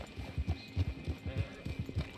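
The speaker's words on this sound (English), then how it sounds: "Hey, there's my horse. He finally showed up." Horse hooves clip-clop in a steady, moderately close rhythm in the Red Dead video game, with about a dozen soft thudding footfalls and a faint steady background hum.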